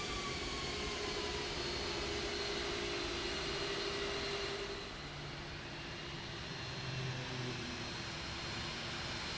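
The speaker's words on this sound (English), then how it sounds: "Get those reverse thrusters going." An airliner's reverse thrusters roar on landing in Microsoft Flight Simulator 2024, a loud, steady broadband jet rush with a whining engine tone, dipping slightly midway and then continuing to roar.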